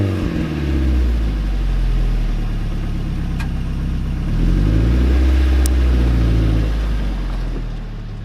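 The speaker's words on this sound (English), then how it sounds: "I love the exhaust that's on this car now." A Mazda Miata fitted with a Hooker Blackheart muffler, its exhaust idling low and steady, then revving up and settling in two smooth swells, close and fairly loud with no talking.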